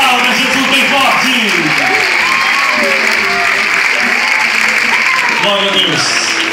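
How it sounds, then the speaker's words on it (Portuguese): Congregation at an open-air Bible Day gathering in a town square applauds loudly and steadily, dense clapping running throughout while a voice speaks over it. "Aplauda Jesus bem forte."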